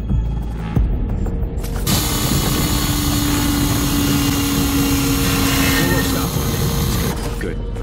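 Drill grinding into a vault door in the Call of Duty: Ghosts game, a steady mechanical whir and hum that runs continuously for several seconds, with ratcheting clicks and a low engine-like drone.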